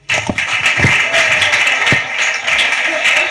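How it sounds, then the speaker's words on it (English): Hall applause for a speaker at a Loyola School farewell celebration, dense continuous clapping from a crowd of students lasting over three seconds, fairly loud, with a few sharper individual claps near the start. "Let's give him a big round of applause."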